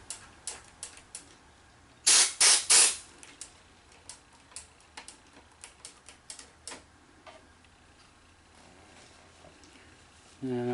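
Contact cleaner sprayed onto the switches on the underside of a Sony Betamax 711B chassis: three quick, loud hissing bursts close together, surrounded by faint clicks and mechanical ticks.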